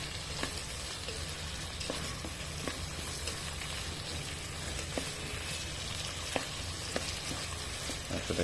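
Chicken meat frying in a rice cooker, with a steady broadband sizzle and occasional sharp crackles and stirring clicks throughout, close and moderately quiet.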